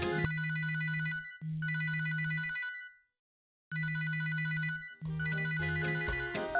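A telephone rings in repeated electronic trills, two bursts, a silent pause, then two more bursts, clear and close with no talking.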